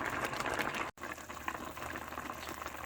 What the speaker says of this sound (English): it's time to simmer the meat until it's tender